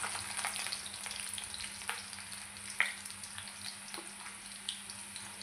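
Onions fry in hot oil with a steady, dense sizzle throughout, broken by a few sharper crackles and light stirring scrapes, close and moderately loud with no voices.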